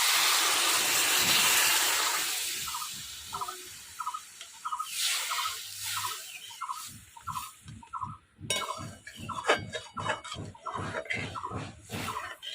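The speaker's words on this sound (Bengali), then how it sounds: "লাউ ভাজা হয়ে গেছে, জল দিয়ে দিলাম।" Water is poured into a pan of frying bottle gourd, setting off a loud hissing sizzle that settles into rhythmic bubbling and spitting, close up, for several seconds.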